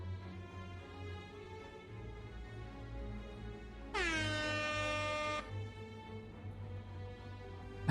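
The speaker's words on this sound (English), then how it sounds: "YouTube air horns sound." A single loud air horn blast blares for about a second and a half in the middle, cutting over a low, steady background tone before it stops abruptly.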